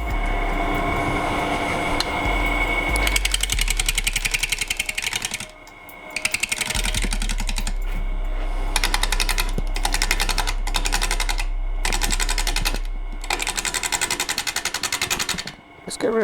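A wood lathe turning an urn at about 650 RPM gives a loud, continuous machine drone with a rhythmic rattling texture, briefly dropping out around the middle and again near the end.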